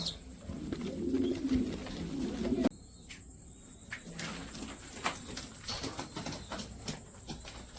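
Pigeons coo softly in a loft. Their low calls repeat through the clip alongside scattered rustles and clatters, and a louder burst of activity comes at the start.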